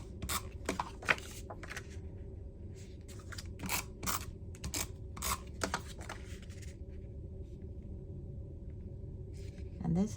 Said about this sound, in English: once you cut those strips out of your scrap paper